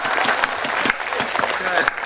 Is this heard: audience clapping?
yes